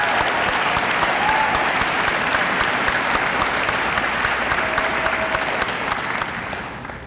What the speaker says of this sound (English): please give our faculty a round of applause